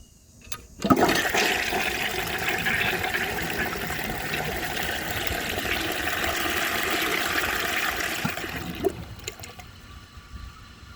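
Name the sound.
flush of a 1950s Kohler Trent toilet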